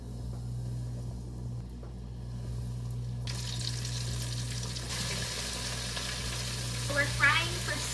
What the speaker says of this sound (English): We're frying for 6 minutes at a time.